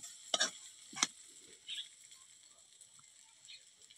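Spice masala for aloo poha is stirred in a pan over a chulha, with two sharp scraping strokes early on, then soft faint scrapes and a light sizzle.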